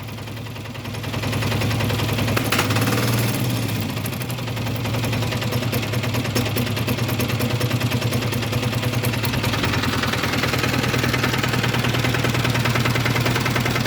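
A DTZ 585D walk-behind tractor engine runs steadily at idle, a loud close low chugging with a rapid even beat that holds throughout.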